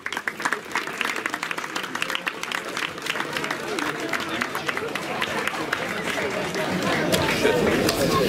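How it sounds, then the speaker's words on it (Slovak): Outdoors at a running race awards ceremony by the Môťová reservoir, a crowd gives loud, continuous clapping that builds toward the end, mixed with chatter from the people gathered. "Ešte raz veľký potlesk."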